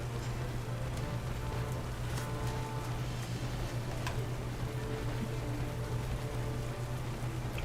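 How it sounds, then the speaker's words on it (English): Rain pours in the video game Pokemon Scarlet as a loud, constant wash of drops, steady from start to finish over a low droning hum. "Oh no, it's raining."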